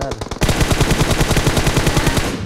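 Rapid automatic gunfire in the BGMI mobile battle royale game, a loud sustained burst of evenly spaced shots rattling for about two seconds after a few scattered opening pops.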